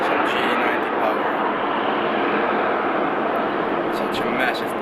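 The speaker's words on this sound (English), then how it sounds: "Enjoy some pure power, some GE90 power." An airliner's GE90 jet engines roar at Amsterdam Schiphol Airport, producing a loud, broad, continuous rushing thunder that holds for several seconds.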